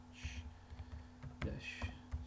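A command typed on a computer keyboard comes through as a quick run of soft, close key clicks in an irregular rhythm, faint overall, with a low steady hum beneath.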